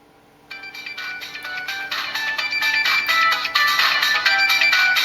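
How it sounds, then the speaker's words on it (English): LG dLite phone ringtone sounds for an incoming call, a bright, repeating electronic melody that starts abruptly after a brief silence and continues steadily and loud with no talking. "you don't have to look for the phone, switch it off, just turn it over, it'll just mute by itself"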